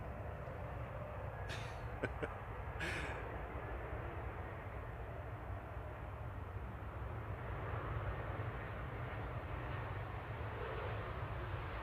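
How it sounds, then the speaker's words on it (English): A KLM Embraer E190 arriving at Manchester Airport from Amsterdam gives off a faint, distant jet rumble under broad background noise, with a few short sharp clicks early on. "Coming in from Amsterdam, KLM 1037. It's just an E190 though."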